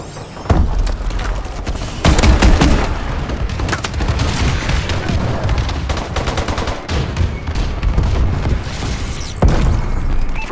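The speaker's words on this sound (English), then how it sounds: "Bombing run clearing the way." Airstrike bombing run in the video game Call of Duty: Advanced Warfare, a dense barrage of loud booms and rapid gunfire blasts rolling continuously, with heavier impacts punctuating the sustained roar.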